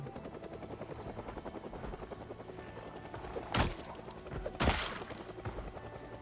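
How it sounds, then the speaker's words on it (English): A helicopter in the Project Zomboid video game, its steady rhythmic rotor chop continuous and moderately loud throughout, broken by a couple of sharp bangs or thuds. "We're about to trigger the helicopter."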